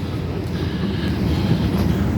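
A C-Train light rail train passes near a station during the Stampede in Calgary, giving a continuous low rumble, fairly close and steady for a couple of seconds.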